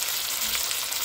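Meat added to a hot pan for adobong sitaw, frying with a loud, dense, continuous hiss and sizzle heard up close, with no voices.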